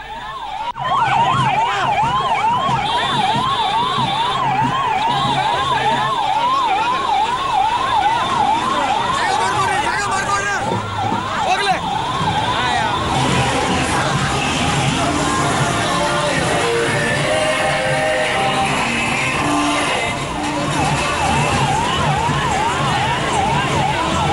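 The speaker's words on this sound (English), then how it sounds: "The ambulance has sirens blaring." An ambulance siren wails continuously and loudly in a fast rising-and-falling pattern, with traffic noise and a second siren tone underneath.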